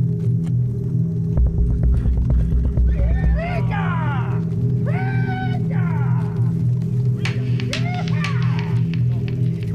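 Horses ridden by a group of about thirty Indigenous riders arrive: a brief clatter of hooves early on, then several rising neighs spread across the stretch over a constant low hum.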